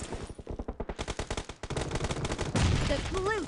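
Automatic gunfire in the battle royale game PUBG, with a fast, evenly paced string of loud shots for over a second, then a dense roar of overlapping fire with faint speech mixed in.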